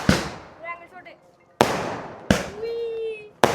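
Firecrackers go off in four sharp, loud bangs spaced unevenly a second or so apart, each with a brief ringing tail, while voices talk faintly between the blasts.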